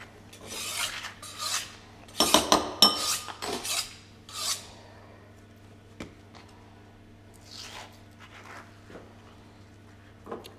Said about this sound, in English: So I have got an avocado. So we just scoop it out and put it in a bowl.